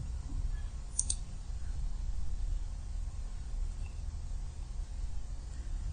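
A single sharp computer mouse click on a Saudi passport fingerprint-check website, heard once near the start over a steady low hum, with no other sounds after it.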